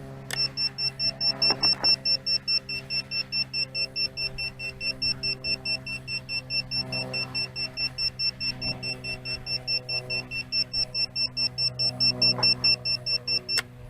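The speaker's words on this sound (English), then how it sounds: "Now let's activate the lost model alarm." A VIFLY Finder lost-model alarm buzzer, still working after battery ejection, beeps steadily in a fast, regular pulsing rhythm, loud and continuous throughout, with a faint hum underneath.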